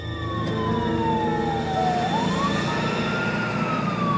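A wailing emergency siren sweeps down and back up in pitch over steady traffic rumble, moderately distant and continuous.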